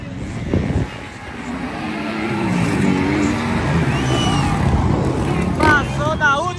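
Motocross motorcycles race past the last curve at a regional dirt-track event in Floresta Azul, Bahia, with a rough, buzzing engine roar building and passing close by. A crowd murmurs and voices talk over it.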